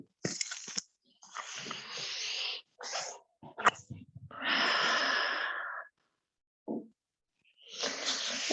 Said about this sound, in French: Prends 2 respirations de plus.